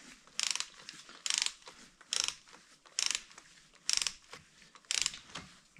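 A hand ratchet wrench tightens the cylinder head bolts on a Kawasaki KZ400 motorcycle engine during a head gasket repair, clicking in six brisk bursts at an even pace, close and clear with no talking.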